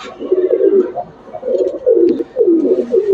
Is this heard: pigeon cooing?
yes